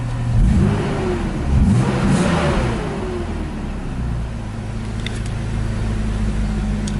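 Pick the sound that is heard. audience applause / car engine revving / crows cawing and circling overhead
car engine revving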